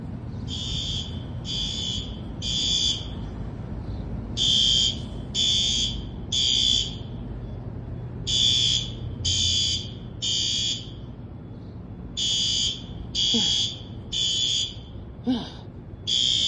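A workplace fire alarm sounds during a test, blaring loud high-pitched beeps in repeating groups of three with short pauses between groups over a low background hum.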